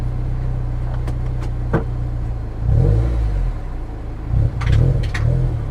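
A Honda S2000 idles close and loud, then rolls forward in gear with a couple of low surging revs and faint clicks or knocks over the steady engine drone.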